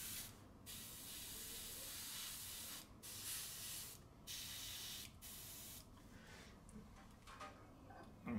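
Hissing aerosol spray of a paint coating over a silver surface in several long bursts separated by short pauses, close and steady, with no talking.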